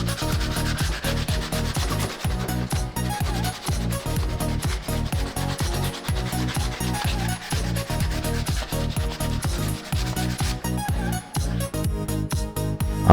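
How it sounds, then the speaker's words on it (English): Steady back-and-forth rubbing of sandpaper by hand on a wooden faux reclaimed beam, close and continuous with a quick even rhythm and no talk. "Give it a quick sand by hand"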